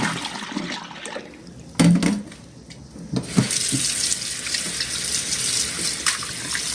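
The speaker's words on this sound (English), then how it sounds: "So now I'm going to switch it back to cold water." A kitchen sink tap runs with a steady hiss of water, briefly interrupted as the tap is switched between hot and cold, then flowing loudly again.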